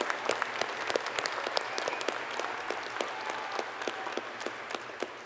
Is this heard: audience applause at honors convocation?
yes